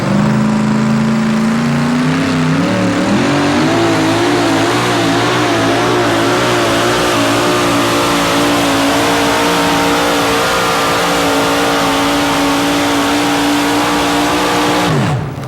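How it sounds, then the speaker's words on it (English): A worn Chevrolet race car engine revs loud and close at a 1987 Raleigh race, its pitch climbing then holding a sustained high drone before cutting off abruptly at the end. "Rocks the wheel back and forth. Comes up on the RPM of the janky engine."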